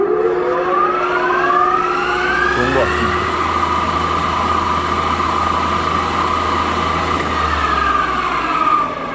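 A conventional engine lathe runs with a steady mechanical hum, its whining tones sliding up and down as the spindle speed changes. Someone speaks briefly over it.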